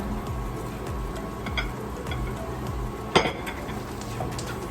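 Ham fries with garlic in a pan, a steady sizzle with soft repeated stirring scrapes and a sharper clink of utensil on pan near the end.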